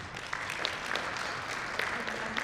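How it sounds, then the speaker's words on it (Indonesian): Audience applause at a corporate client gathering, a brief burst of moderate clapping from the crowd with scattered sharper claps standing out. "Kembali tepuk tangan buat kita semua."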